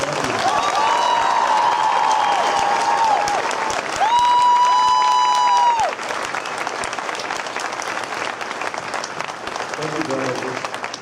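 An audience applauds the drum major team of the Downers Grove North Trojan Marching Band at a band concert, steady clapping and cheering filling the hall while sustained instrument tones sound over it, fading slightly toward the end.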